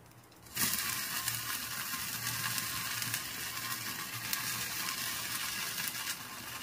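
Chicken reshmi kebab sticks drop into melted butter in a pan and break into a sudden loud sizzle that holds steady and close, crackling and spitting for several seconds.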